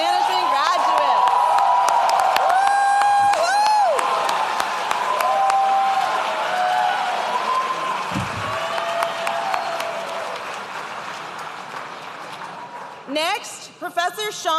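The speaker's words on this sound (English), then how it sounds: "Please join me in a round of applause for our Bachelor of Science in Policy Analysis and Management graduates." A graduation ceremony crowd for Bachelor of Science in Policy Analysis and Management graduates claps and cheers, with whoops and voices over continuous applause that fades somewhat before a brief louder burst near the end.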